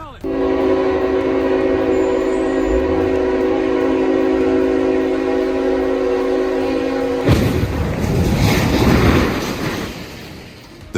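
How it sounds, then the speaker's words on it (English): A train derailing and slamming into a truck at a crossing: a long, loud steady horn blast holds for several seconds, then cuts off into a burst of crashing, grinding impact noise that fades out. "Oh, it's derailing."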